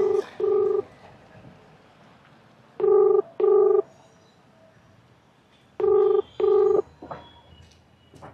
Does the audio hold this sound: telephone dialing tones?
yes